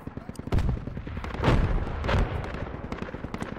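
Heavy DShK machine gun fire in the Project Reality military game, booming bursts close by with deep thuds, amid a chaotic battlefield mix of gunfire and voices.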